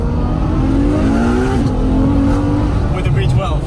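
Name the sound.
supercar engine revving and tires squealing while drifting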